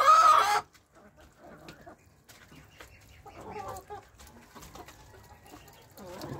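Poultry cluck softly in scattered short bursts while sunbathing in a farm yard, moderately close, with a loud burst of noise at the start and quiet pauses between calls.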